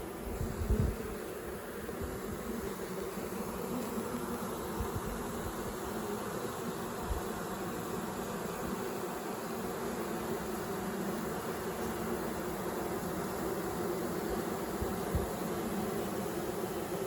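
A honeybee swarm being hived, with a steady dense buzzing that holds evenly throughout, close and continuous with no talk.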